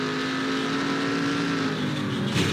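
A pack of race cars from a Craftsman Cup Series race at Auto Club roars by, a dense, steady engine drone filling the whole stretch. A slight surge near the end as the cars pass closest.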